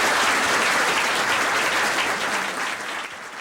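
A crowd of about 100 people at a university student union applauds steadily, a dense close wash of clapping that holds strong before easing slightly toward the end, with no voices over it.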